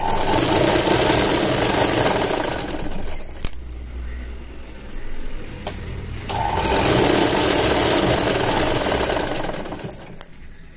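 Sewing machine stitching thread piping beside a quarter-inch fold of cloth on a square neckline, loud steady whirring in two long runs separated by a quiet pause of a few seconds.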